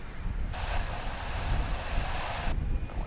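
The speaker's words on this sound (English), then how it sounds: "Airbus A340, which is the only other four-engined passenger plane that we have coming and going here at Dallas-Fort Worth right now." A four-engined Airbus A340 passenger jet at Dallas-Fort Worth airport produces a steady, distant engine roar under wind rumble, with a broad hissing wash rising and then cutting off midway; no one talks.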